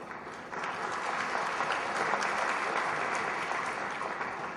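Applause fills an auditorium at a felicitation ceremony, starting softer and swelling after a half second into full, steady clapping from a large audience that holds strong to the end.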